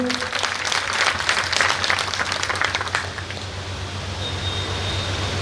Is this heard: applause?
yes